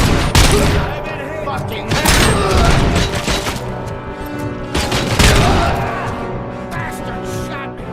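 Rapid bursts of gunfire from the video game Robocop Rogue City, loud and sustained across the whole stretch with heavy booming shots, while a voice swears briefly over the barrage.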